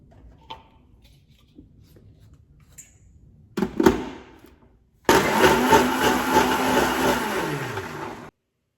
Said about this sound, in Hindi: थोड़ा सा दूध डाल के पहले मैं इनको पीस लूंगी।